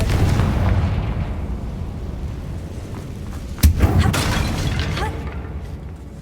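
A Confringo spell explodes in the video game Hogwarts Legacy: one sharp, loud burst just past the midpoint, rising out of a steady low rumble of game ambience, with a fainter echo trailing after.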